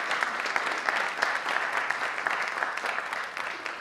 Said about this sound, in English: Could we please just take a moment to give them a warm round of applause for their work?